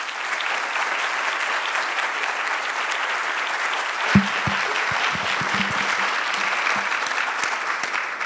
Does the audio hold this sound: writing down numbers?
no